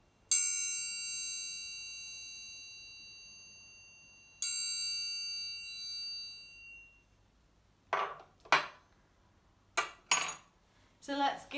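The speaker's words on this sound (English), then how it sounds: "it's going to be the sound of a triangle." Two bright ringing triangle strikes, each decaying slowly, followed by a short spoken phrase at the end.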